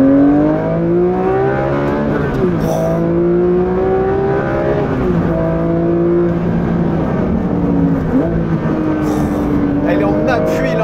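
A Porsche 911 S/T engine pulls hard out of a curve, its revs climbing in loud, close, steady sweeps broken by several quick gear shifts, running continuously throughout.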